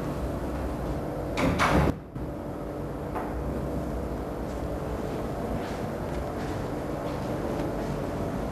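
A door slides shut with a short rumble and a firm thud near the start, followed by a quiet room hum; no one speaks.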